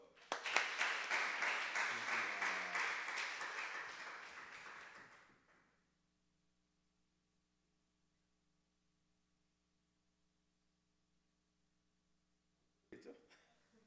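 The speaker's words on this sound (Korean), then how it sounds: "박수" Church youth service congregation breaking into rhythmic applause, loud and steady for about five seconds before stopping abruptly into near silence, with a brief sound at the very end.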